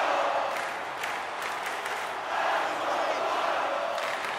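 A packed hockey arena crowd roars steadily through a tied NHL playoff game 7, Minnesota Wild against Los Angeles Kings, a dense, continuous wash of cheering with swells near the middle and end.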